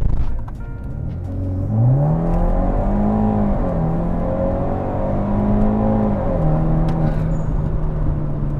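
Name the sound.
BMW F30 accelerating with turbo blow-off valve sound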